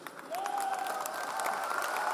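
An audience claps together in a steady, moderately distant patter that holds evenly throughout, with a sustained tone sounding underneath.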